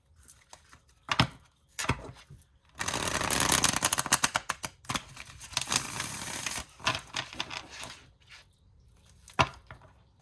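A deck of tarot cards is shuffled close by in quick riffling bursts and slaps, with a long dense flurry in the middle and scattered taps before and after.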